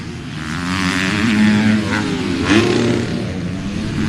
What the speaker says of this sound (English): That RPM in the engine is a little bit louder and more dominant than the other guys that they've been battling with.